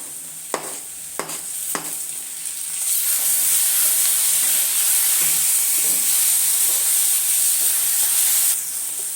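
Finely chopped ginger and garlic fry in a pan, a few sharp knocks first, then a loud, bright, continuous sizzle starting around a third of the way in and holding steady until it drops away near the end.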